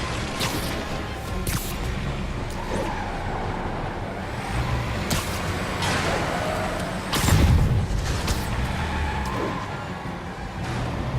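Trucks rumble along city streets in Marvel's Spider-Man, with a steady engine drone, scattered impacts and a heavier thump midway.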